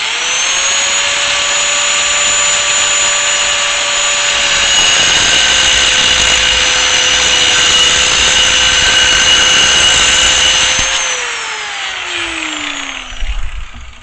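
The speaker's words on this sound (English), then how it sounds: "So I'm gonna go ahead and cut some more of that off." A power tool cuts metal on a mud mower front hub, giving a loud, steady high-pitched whine held for about eleven seconds before it winds down and trails off into quieter handling noise.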